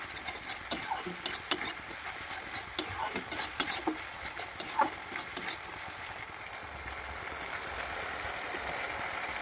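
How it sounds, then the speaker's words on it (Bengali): Spices sautéing with mustard and poppy seed paste in a pan, a steady sizzle broken by repeated spatula scrapes and taps in the first half, then a smoother frying hiss, close and with no talk. "দিয়ে ভালো করে মশলাটা 5 কি 10 মিনিট ধরে ভালো করে কষিয়ে নিতে হবে"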